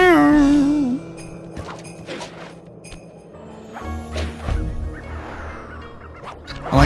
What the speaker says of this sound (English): I like the sound geese make when they die.